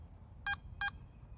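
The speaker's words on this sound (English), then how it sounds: "Press and hold the iron check button and wait for the double beep" A Garrett ATX metal detector gives its double beep during an iron check, two short, clear electronic tones in quick succession over faint background noise.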